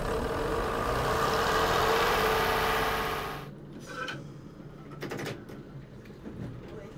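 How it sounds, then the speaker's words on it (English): Chiltern bubble car engines running just after a cold start, a loud steady mechanical drone for about three seconds before cutting off abruptly, followed by quieter, sporadic rattles and knocks. "So now I'm starting the engines from cold, which we do from the outside engine start buttons."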